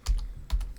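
Keys tapped on a computer keyboard while entering a command-line instruction, a few quick close clicks in two small clusters.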